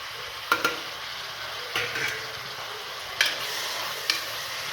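Tomatoes stirred in a frying pan while cooking chicken biryani, a steady low sizzle with four sharp scraping clicks of a spoon against the pan spaced about a second apart, close and alone.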